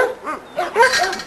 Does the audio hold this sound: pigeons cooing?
no